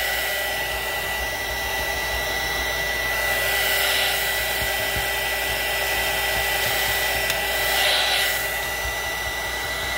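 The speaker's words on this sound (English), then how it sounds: "it works better to have that heat tool ready right there" A heat tool blowing hot air to dry colour on Scotch tape, a steady, close whooshing hum with a faint whine that swells slightly as it is moved, running continuously without talk.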